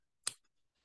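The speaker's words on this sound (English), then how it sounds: "what I can do is hold the hook like that and get my scissors in here" A single crisp snip of scissors trimming fly tying material at a vise, close and quiet, followed by faint small clicks.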